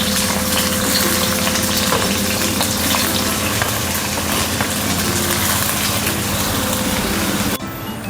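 Chopped onion being fried in oil in a pan for a Marathi black masala paste, giving a dense, continuous loud sizzle that runs throughout, with the last moment quieter.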